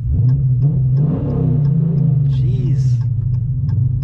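A deep, throaty 6.4 L V8 of a 2018 Dodge Challenger Scat Pack with long-tube headers and upgraded exhaust rumbles loudly and steadily close by, with a short exclamation and faint background sounds over it.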